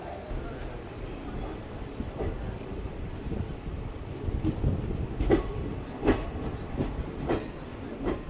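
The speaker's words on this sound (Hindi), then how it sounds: "अब अपना डिपार्चर जो है वो हो चुका है खुर्गा रोड जंक्शन रेलवे स्टेशन से" A passenger train pulling out of Khurda Road Junction railway station in Odisha, with steady low rumble and rhythmic wheel clacks on the rails growing more distinct toward the end, heard from aboard the train.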